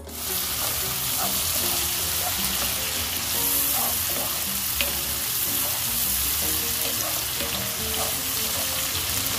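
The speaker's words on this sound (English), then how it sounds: "Increase the heat to medium-high and cook until the wine has reduced to about half." White wine simmering and reducing over medium-high heat in a pan for garlic shrimp pasta, giving a steady, loud sizzle and bubbling throughout with occasional stirring clinks, no talking.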